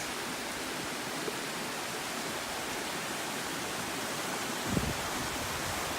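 Cottonwood Creek Falls roars in a constant, dense hiss of rushing water, steady and unbroken throughout, with a faint thump partway through.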